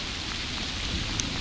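Rain pours steadily during a thunderstorm with hurricane-force winds, a continuous close hiss of water on surfaces with no voices.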